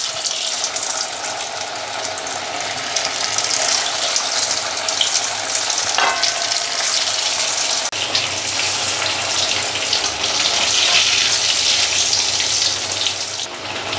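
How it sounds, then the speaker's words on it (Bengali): Samosas deep fry in hot oil with a continuous close bubbling sizzle that swells and thickens partway through, alone without talk. "তেলটা গরম হয়ে গেছে, এর মধ্যে ছেড়ে দিচ্ছি।"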